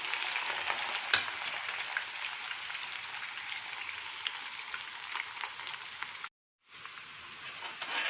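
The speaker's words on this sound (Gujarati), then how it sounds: "તેલમાં કારેલા અને બટેટા ઉમેરી દઈએ એને આપણે બ્રાઉન કલરના થાય ત્યાં સુધી આપણે તળી લઈશું" Bitter gourd and potato pieces frying in hot oil give a steady, close, loud sizzle with crackly texture, broken by one brief pause near the end before the hiss resumes.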